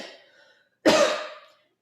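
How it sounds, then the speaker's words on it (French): One loud, close cough bursts out after a soft breath, then quickly fades into silence. "Si on tousse"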